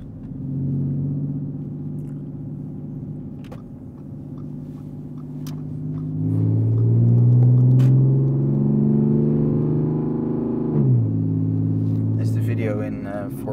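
A supercharged 463 hp Audi A5 Sportback with a loud straight-piped exhaust idles with a deep, throbbing drone, then revs up in a swelling roar before dropping back, while people talk nearby.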